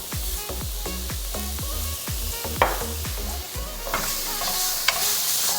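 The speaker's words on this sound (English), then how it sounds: "We want to brown the garlic a little bit too." Garlic and ginger brown in oil in a pan over very high heat, giving a loud, continuous sizzle with a quick run of rhythmic stirring strokes followed by scattered scrapes.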